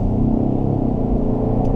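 A 2018 Ford Expedition Limited's 3.5-liter EcoBoost V6 runs with a deep, steady, loud rumble heard close by, unbroken and without speech.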